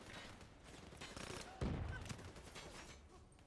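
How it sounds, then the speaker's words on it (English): Gunfire in Call of Duty Black Ops III, including sniper rifle fire: a burst of shots rises to one heavy, booming report midway, heard among other battle noise, with a voice talking over it. "A sniper?"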